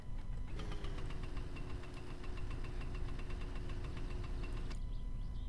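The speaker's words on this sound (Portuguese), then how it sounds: "Mano, a motinha tá andando muito, velho" A small motorcycle engine in the My Summer Car video game runs steadily, a buzzing mid-pitched drone with a fast regular pulse, loud and close throughout, then cutting off near the end.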